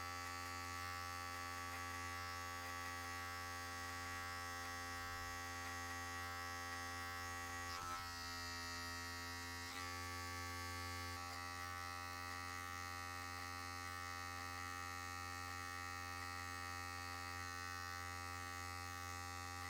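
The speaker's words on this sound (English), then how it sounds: "Notice how I'm only trimming the tips of the hair" Electric hair clippers buzz with a constant, even hum while trimming the tips of afro hair, the tone dipping briefly a few times as the blades meet the hair; no voices.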